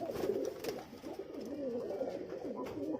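Giribaz and Pakistani breed pigeons cooing in a loft in Rajshahi, soft repeated low throaty coos close by at low volume, with faint background murmur.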